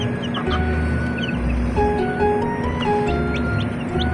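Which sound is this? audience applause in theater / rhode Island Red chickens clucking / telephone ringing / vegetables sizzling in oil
rhode Island Red chickens clucking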